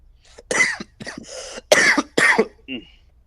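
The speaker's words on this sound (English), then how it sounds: "Yes, I induced coughing." A person coughs several times in quick, harsh bursts, close and loud, ending with a brief throat-clearing sound.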